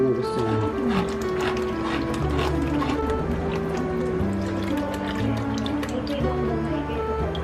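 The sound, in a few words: Nestle cream being poured into spaghetti sauce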